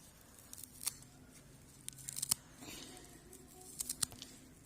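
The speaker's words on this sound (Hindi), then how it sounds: "अब इसको हमने बारीक, बिल्कुल बहुत बारीक बारीक हमने इसको काट लेना है।" A knife finely cuts a biryani ingredient with scattered light, crisp snips and taps, some quick clusters and some single strokes, quiet and close with no talk.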